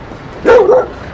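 A boxer, bull mastiff cross with brown ears gives a single short, loud bark or yelp, brief and close, standing out clearly against a quiet background.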